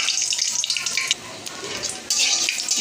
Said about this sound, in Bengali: মরিচ ভাজা হচ্ছে